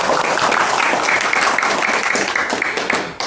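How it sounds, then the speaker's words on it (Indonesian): An audience applauding together at a religious study group's anniversary gathering, making a steady, dense wash of clapping that holds at full strength throughout before a brief dip right at the end. "Tepuk tangan lagi pada peserta yang paling baik."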